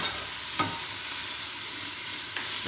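Vegetables sweat down in a pan of hot rapeseed oil for a quick, vibrant soup, giving a steady close sizzle with two brief stirring scrapes, no voices.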